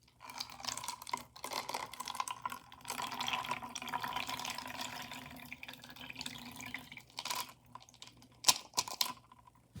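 Simulated blood carrying small and large beads is poured over a screen into a bowl, giving a faint, continuous patter of trickling liquid and tiny bead clicks, with a few sharper ticks near the end.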